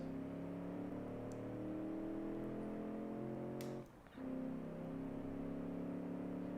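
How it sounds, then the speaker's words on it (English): Simulated V8 sports truck engine from BeamNG, a 1992-style 4x4 pickup, droning steadily at high revs with layered harmonics, briefly dipping around the middle as if shifting, then holding a loud constant roar with no talking. "who doesn't like a good V8 noise?"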